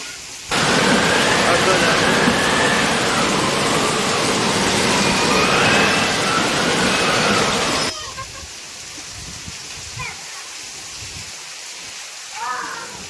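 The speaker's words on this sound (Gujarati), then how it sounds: "આજે 11 વાગ્યાનો વરસાદ ચાલુ છે. આમના સારો વરસાદ આવી ગયો છે આજે." Heavy rain pours in a loud, dense roar for several seconds, then drops abruptly to quieter dripping and patter with faint distant sounds.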